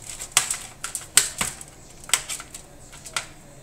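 A knife cuts through smoked ribs cooked on a gas grill, giving a run of sharp, irregular taps and clicks against the board, close and distinct with quiet gaps between strokes.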